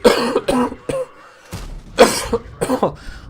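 Several sharp, close coughs in quick bursts with brief pauses between, some sounding like throat clearing.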